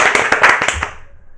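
Hands clapping in a studio, a quick burst of about seven sharp, loud claps close by, tapering off as a faint voice trails at the end.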